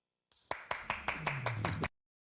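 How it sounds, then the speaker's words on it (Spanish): Someone claps at the end of a speech, about seven crisp, evenly spaced hand claps close by, stopping abruptly, with a voice briefly audible underneath. "no sé quién estaba aplaudiendo ahí sobre el final"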